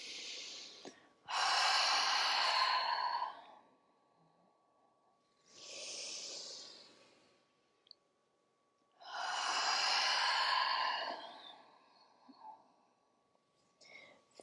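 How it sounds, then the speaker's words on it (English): A long breath exhaled through the open mouth during a gentle morning yoga practice, three loud airy whooshes separated by quiet pauses, close to the microphone with no talking. "open the mouth now and exhale that"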